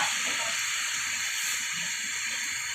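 Steady, dense hiss of falling rain, constant and unbroken throughout with no speech.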